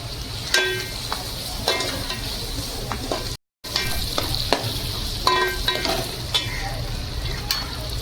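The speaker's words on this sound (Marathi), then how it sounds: "टोमॅटो परतायचा त्याच्यात. एकदम बारीक चांगलं मिळून आलं पाहिजे कांदा आणि टोमॅटो." Onion and tomato sautéing with salt in a pan for keema, a steady close sizzle broken by repeated scraping stirs, with a brief gap partway through.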